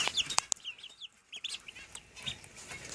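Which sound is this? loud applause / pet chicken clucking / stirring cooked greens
pet chicken clucking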